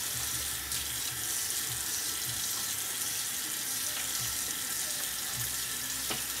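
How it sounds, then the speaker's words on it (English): A tap runs steadily into a sink while a face is washed with black soap, a close, constant broadband hiss of water with faint splashes and no talk. "So let's start washing."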